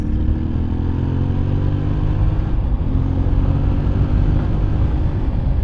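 Yamaha Tenere 700 motorcycle engine running steadily while riding, a loud, continuous close drone with wind rush and slight pitch shifts as the revs change, no talking.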